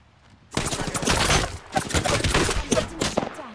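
Gunfire in an Apex Legends firefight, dense rapid bursts of automatic shots crackling in quick succession with brief gaps, loud and close, with no talk over it.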